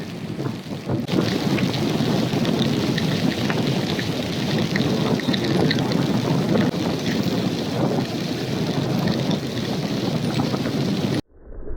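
Heavy rain and wind roar steadily around a motorbike riding through a downpour toward Cape Hedo at Okinawa's northern tip, a dense continuous wash of noise that cuts off abruptly at the end.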